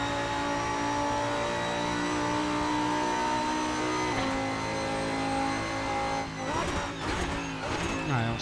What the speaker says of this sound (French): Lamborghini Hurricane GT3, donc LMGT3, pour être précis.